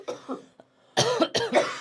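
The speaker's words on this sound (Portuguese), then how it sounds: "Tacou a tosse." Several loud, close coughs from a person, a short pair at the start, then harsh bursts in quick succession, with a brief quiet gap between.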